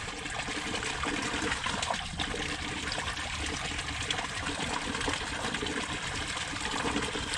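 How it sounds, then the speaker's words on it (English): Water runs steadily through newly fitted pond tubing, a continuous close trickling and gurgling flow with no voices. "the water is definitely flowing a lot more"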